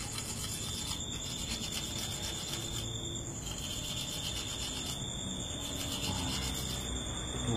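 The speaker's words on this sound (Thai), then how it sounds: "ค่อยๆถากไปนะครับใช้มีดขูดไปนั่นเองนะ" Knife blade scraping and shaving bamboo wood to shape the frame of a Thai kite, a steady close rasping rub that keeps on with slight pulses, under a constant high whine in the background.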